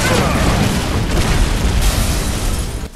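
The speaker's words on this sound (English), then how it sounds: "Oh, that was a big explosion." Big explosion in the video game Final Fantasy 7 Remake, a loud, sustained rumbling blast with crackling debris that fills the whole moment before dropping away abruptly at the end.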